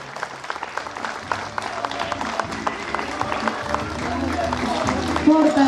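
An audience applauds at an outdoor parade event, with a steady patter of clapping over music and background crowd, swelling louder toward the end.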